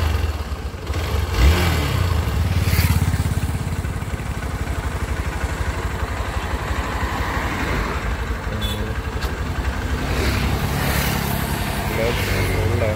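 A Hero Xpulse 200 motorcycle with a broken clutch cable runs and starts moving off, its engine a steady close throbbing drone that rises slightly and holds throughout, with a voice talking over it.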